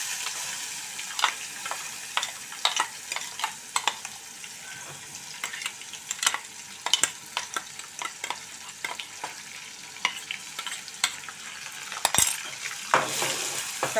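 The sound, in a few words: ground chilli, onion and garlic paste frying in oil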